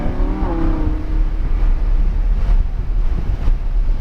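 A car accelerates uphill over a blind crest on the Hallett Motor Speedway track, its engine a low, steady rumble heavily buffeted by loud wind noise throughout.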